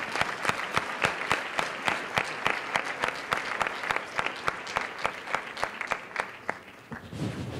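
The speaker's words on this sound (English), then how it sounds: "Please give them a round of applause." Sparse, rhythmic hand claps from a modest crowd at a wedding reception, with distinct individual claps sounding close and tapering off near the end.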